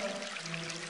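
Water trickling in an aquarium, a continuous bubbling splash with a steady low hum beneath, even and close.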